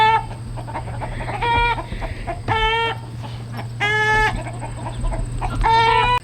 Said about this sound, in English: she got the chickens all stirred up. They all ran underneath the tree and they were all just throwing a fit.